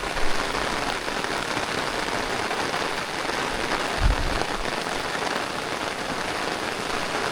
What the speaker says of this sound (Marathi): पाऊस जोराचाच आला हा बघा.